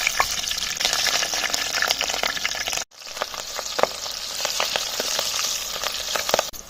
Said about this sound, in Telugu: నూనె వేడి కాగానే పచ్చిమిరపకాయలు వేసుకుందాం